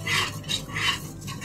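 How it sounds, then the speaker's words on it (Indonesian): Spoon scraping and swishing through milk heating in a pot, in three rhythmic stirring strokes, close and moderately loud with no talk. "Ini harus diaduk biar gak pecah ya susunya."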